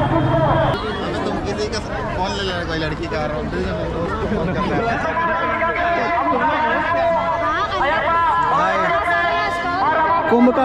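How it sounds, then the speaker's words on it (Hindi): Dense crowd chatter at a packed, busy fair, many voices overlapping into a loud, steady hubbub with no pauses throughout. "पूरा भीड़ है भीड़।"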